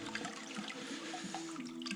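Water runs steadily through a gold-prospecting sluice in a garage during cleanup of old material. The flow is close, with faint trickling and splashing throughout.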